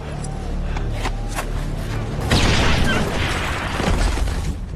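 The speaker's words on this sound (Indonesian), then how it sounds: "ledakan pun terjadi. Ternyata tubuh anjing itu dipasangi dinamit." A sudden loud boom from dynamite strapped to a dog in a film bursts in about halfway through, followed by a rumbling, crackling roar that sustains to the end, with some quieter sounds before the blast.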